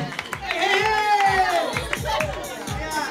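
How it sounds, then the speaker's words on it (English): At a local talent show, an audience claps in a rough rhythm while children and adults cheer and shout with excitement, all of it loud and close throughout. "Come on, give a big round of applause, please."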